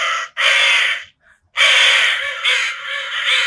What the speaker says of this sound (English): Speaking of crows, we have the emergency crow sound maker.